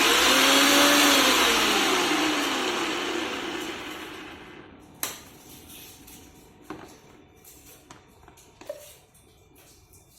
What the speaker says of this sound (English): Now again I am continuing at speed 1 to get smaller pieces.